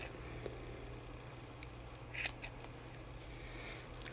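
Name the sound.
scissors cutting crochet yarn loops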